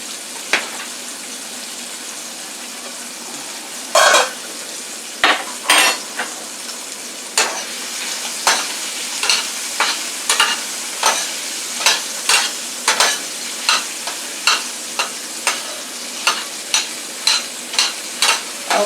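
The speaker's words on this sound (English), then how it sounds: "I'm going to use my other spoon and I want to stir the macaroni" A spoon stirs macaroni in a pot in steady repeated scraping clicks against the pan over a continuous bubbling sizzle, close and clear, with no talking.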